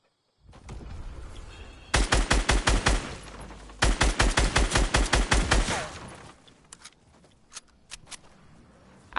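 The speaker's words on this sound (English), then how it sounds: "Oh no, someone's shooting it now." Gunfire in Fortnite Season 5 out in a large field: two loud, rapid bursts of evenly spaced shots, then scattered fainter distant shots trailing off, with no talking.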